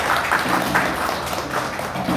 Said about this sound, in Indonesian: Kita beri tepuk tangan dulu untuk kelompok 2.